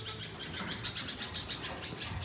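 Crows calling around a home during a household puja, a run of repeated sharp bird calls at a steady, moderate level with no talking.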